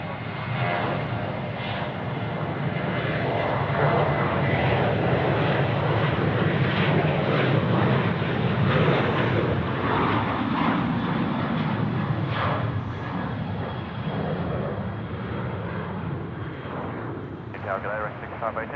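Airliner landing on runway 34 right at Sydney Airport, a loud, steady broadband engine roar that holds for the whole stretch with a mild swell midway, while a voice talks over it.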